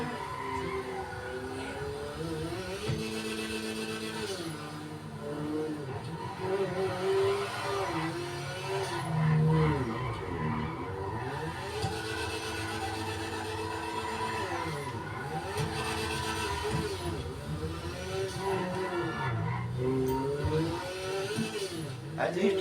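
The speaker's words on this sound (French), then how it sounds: "Elle drifte bien celle-là comme voiture quand même." A car drifts and skids through turns in GTA 5, its engine whining up and down in repeated sweeps with tire squeal over a steady game soundtrack, while a voice talks over it.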